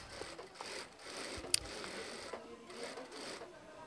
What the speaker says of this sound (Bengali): একটা সেলাই দিলাম, এরপর আরেকটা মুড়ানি দিয়ে আরেকটা সেলাই দিব।